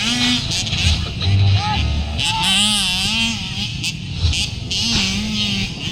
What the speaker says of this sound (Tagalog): We are into the last lap of racing for the 65cc category.